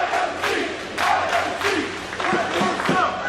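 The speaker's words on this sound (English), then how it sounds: "And this crowd is electric." A packed spillover crowd roars and cheers throughout a pro wrestling match between Jonathan Gresham and Chris LeRusso, with dense, sustained crowd noise, scattered shouts and swells of excitement, heard close and loud.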